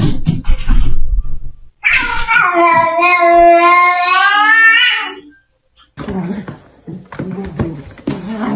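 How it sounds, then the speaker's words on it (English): A cat meows from inside a bag in one long, loud, wavering cry, with brief voices heard before and after it. "A cat in a bag."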